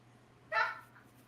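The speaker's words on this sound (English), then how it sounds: "Nope, but I hear the dog." A dog gives a single short, fairly close bark over a quiet background hum, then silence.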